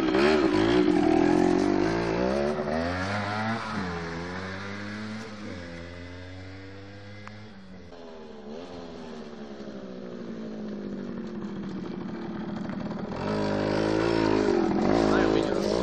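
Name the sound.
Yamaha DT50 MX motorcycle engine revving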